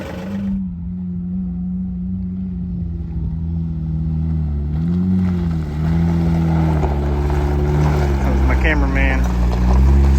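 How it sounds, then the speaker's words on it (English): A tractor engine idles and then revs with a low, steady rumble while moving dirt on a farm. Its pitch rises and falls as the load changes, and a brief higher mechanical whine enters near the end. "then I remembered we have a tractor."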